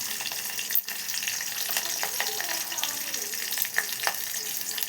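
Curry leaves, turmeric, cumin and mustard seeds frying in hot oil for a spicy chili powder mix, giving a constant close sizzle with small crackles and stirring scrapes.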